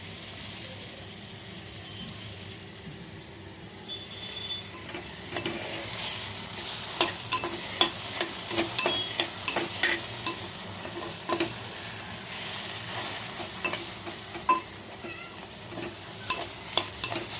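Goat brain (bheja) fries over low heat in a pan, a soft steady sizzle broken by frequent sharp scraping taps of a spatula stirring, growing busier toward the end, with no voices.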